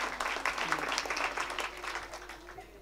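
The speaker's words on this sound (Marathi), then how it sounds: "पुरुष मंडळी वाजवा एकदा, उरले तेवढे." Men in a kirtan audience clap together, a dense steady patter of many hands filling the space, with a faint sustained tone and some murmur underneath, tapering slightly toward the end.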